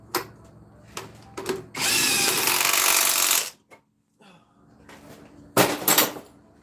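Power tool tightening a bolt with a socket during a Nissan Maxima engine install, one sustained loud whirring burst followed by a shorter one, with scattered mechanical clanks between.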